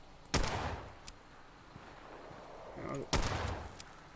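Two sharp gunshots in Fallout 76, one early and one near the end, each a loud broadband crack with a short decaying tail, separated by quieter background game ambience.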